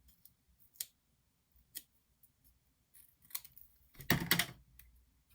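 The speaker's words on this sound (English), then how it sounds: "Let's cut a little more off there." Scissors snip through card while trimming a meerkat pull-up interactive card: a few short, sharp cuts spaced apart, then a louder burst of crunching snips near the end, close and alone in a quiet room.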